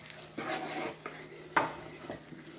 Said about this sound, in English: So let's do a good mix because we just kind of threw everything in there.